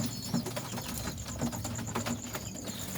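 Pigeons feeding on scattered wheat grain at night, with soft pecking taps, light wing flutters and occasional low coos, all close and fairly quiet.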